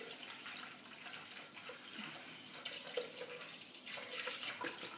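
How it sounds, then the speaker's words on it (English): A steady stream of UHT full cream milk poured from a one-litre carton into a container, heard as a continuous close liquid gurgle and trickle lasting throughout, with no talking. "It's taking a little bit longer than I had anticipated to pour a litre of milk in."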